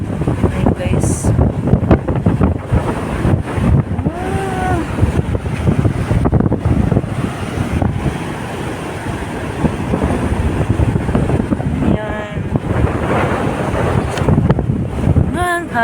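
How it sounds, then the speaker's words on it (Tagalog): Strong wind buffets the microphone in a steady roar while waves surge and wash nearby; a few faint bird-like squeaks come through the noise. "Ang lakas ng hangin guys."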